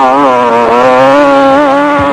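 Off-road race motorcycles at the start of the Toyota 1000 off-road race in South Africa produce a loud, steady engine drone with a rising pitch, continuous and close throughout.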